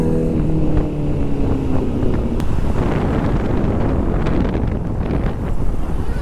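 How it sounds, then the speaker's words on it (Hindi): Steady roar of wind and traffic rushing past on a road near Lonavala, heard from a moving motorbike, with engine and tyre noise from passing vehicles continuous and loud throughout. "एवढ्या गाड्यांचा आवाज आहे तरी उठत नाही."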